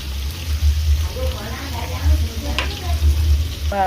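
Onion hisses and sizzles in a hot pan with paprika and chili for an eggplant dish, a close, steady crackling fry with a few brief utensil clinks and a faint voice in the background.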